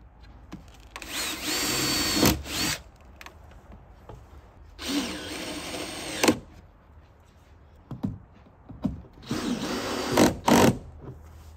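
A power drill drives small screws into galvanized metal trim on a cabin on wheels, with three separate whirring bursts, each a couple of seconds long, between quiet stretches with faint knocks.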